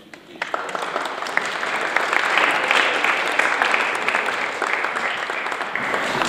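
A school hall audience bursts into sustained, dense applause for the first student parliament president of Kiskunfélegyháza, rising quickly and holding steady throughout.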